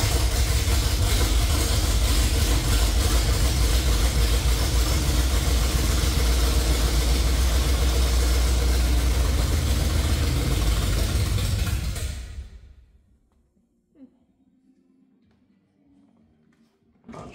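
A car engine with a carburetor runs at a loud, steady idle for about twelve seconds, then dies away into near silence apart from a few faint knocks, with a brief spoken word.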